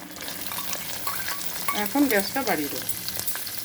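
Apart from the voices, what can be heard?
onions frying in a pan for sambar dal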